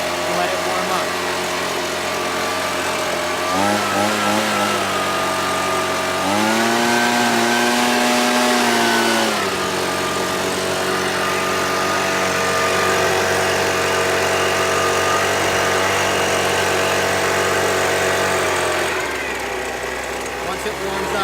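A gas leaf blower engine runs on choke while warming up, a steady loud buzzing drone with a few brief shifts in pitch, with a person talking over it.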